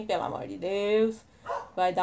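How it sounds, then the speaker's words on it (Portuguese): A neighbour's dog barks a few times at middle distance, the yaps interleaved with a person speaking Portuguese close by. "esse é o cachorro do vizinho querendo aparecer"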